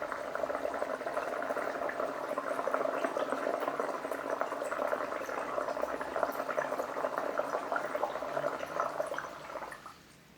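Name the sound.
water bubbling in a glass from controlled exhalation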